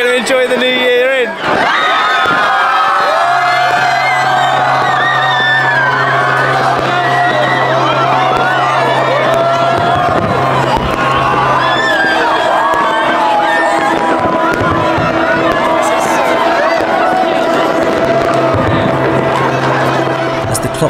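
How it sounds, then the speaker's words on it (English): A big outdoor crowd cheers and whoops at the stroke of midnight on New Year's by a harbour as fireworks bang and crackle nearby, with boat horns droning underneath and voices shouting throughout. "Clock struck 12, crowds celebrated wildly"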